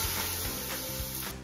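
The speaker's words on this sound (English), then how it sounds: "Nice big sizzle there." Cold water poured into a hot stock pot holding vegetables and a bouquet garni gives a steady, loud hiss and sizzle. It runs unbroken for about a second and a half with no talk over it.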